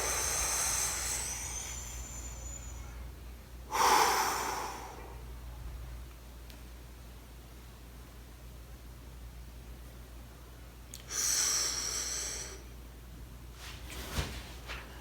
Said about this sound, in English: Breathe big.